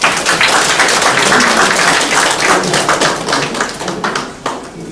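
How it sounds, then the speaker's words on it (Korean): Applause from a crowd at a Korean city council candidate's campaign office opening, loud dense clapping that holds steady and then thins toward the end. "여러분 큰 박수 부탁드리겠습니다"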